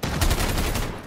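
Rapid gunfire bursts in a Call of Duty Modern Warfare 2v2 match, a dense run of sharp, close shots packed into about a second, loud and continuous.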